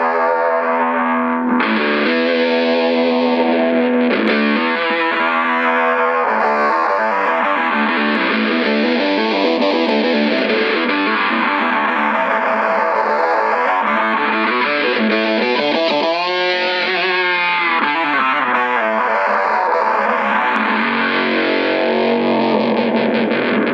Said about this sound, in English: we'll see what happens with the distortion on the octave pedal